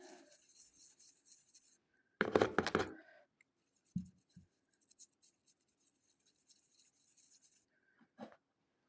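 A toothbrush scrubs a blackened, tarnished coin in short scratchy bursts: one loud, dense stretch of brisk scrubbing, then a few brief rubs and taps amid quiet pauses, close up.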